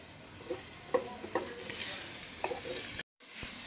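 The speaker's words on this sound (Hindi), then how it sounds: "अच्छे तरीके से मसाले को भून लेंगे" Spice masala roasting in a pan in a Pakistani village kitchen for aloo karela, a steady close sizzle with several light stirring scrapes and clinks spread through, then a brief cut to silence near the end.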